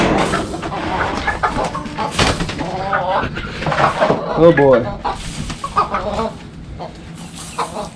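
Backyard chickens cluck and squawk inside a coop with a caged bird separated from the flock, loud and near, with a rooster-like call, while someone talks over them.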